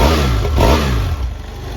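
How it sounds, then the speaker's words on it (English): Engine of a 2013 BMW F700GS motorcycle with a 798cc parallel twin revving up loud and close, then settling back to a rough, throbbing idle. "The parallel twin 798cc engine runs very good"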